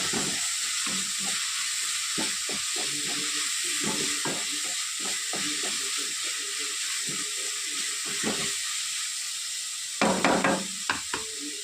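Curry leaves hit hot oil and sizzle with a steady, bright hiss, broken by frequent soft pops and spatters, close by; a few louder crackles come near the end.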